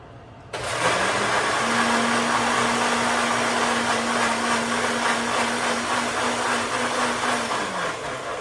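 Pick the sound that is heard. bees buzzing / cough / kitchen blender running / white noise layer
kitchen blender running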